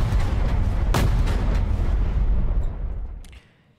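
A 100 mm tank cannon fires in War Thunder, unmodified game sound: one sharp, loud blast with a heavy low rumble that trails off over about three seconds before fading out.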